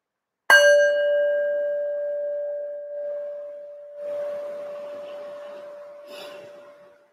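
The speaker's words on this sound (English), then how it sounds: "I'll ring a bell to start and a bell to finish" A meditation bell is struck once to open a session. The clear, bright tone sounds alone and rings out with a long, slowly fading sustain in a quiet room.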